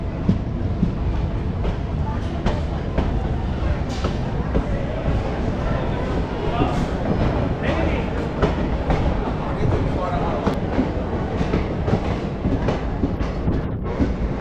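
The Begampura Express rumbles out of Pathankot Cantt station, a continuous loud rolling roar with rhythmic wheel clatter and occasional sharp clanks, heard from on board.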